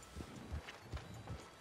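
Horse hooves in Red Dead Redemption 2, a soft, close clip-clop of a few slow walking steps, faint against a low ambient bed.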